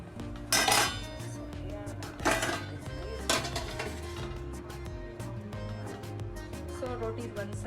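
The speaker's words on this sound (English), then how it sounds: "putting the lid on." A metal lid goes onto a pan while a kala chana flour chilla cooks, with a few sharp clanks and clinks of cookware close by and a soft background hum between them.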